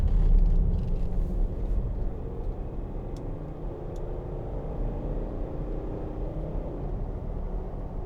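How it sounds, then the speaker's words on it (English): A 2009 Range Rover 3.6 TD V8 diesel accelerating, heard from inside the cabin as a subdued, steady low rumble that stays fairly quiet throughout. "Just give it some gas coming up here, because the V8 sounds tremendous, even for a diesel"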